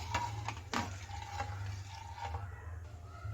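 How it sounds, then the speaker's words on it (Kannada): Thickening rava (semolina) papad dough is stirred in a pan with a few distinct scraping knocks of the utensil against the pan over a low steady hiss, quiet and close. "ಕೈ ಆಡಿಸ್ತಾನೆ ಇರಬೇಕಾಗತ್ತೆ, ಬಿಟ್ಟರೆ ಗಂಟುಗಳಾಗ್ಬಿಡುತ್ತೆ"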